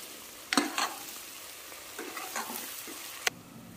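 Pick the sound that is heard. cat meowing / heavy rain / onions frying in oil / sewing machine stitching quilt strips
onions frying in oil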